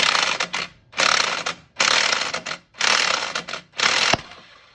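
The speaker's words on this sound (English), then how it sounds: "We'll go ahead and hit this with a 3/4 inch impact because that's the end of this. And sometimes this will make a loud pop when it comes off." A 3/4 inch impact wrench hammers on an Arctic Cat clutch bolt in four loud, harsh bursts of about a second each with short gaps between them, and the last burst ends in a sharp pop as the clutch comes free.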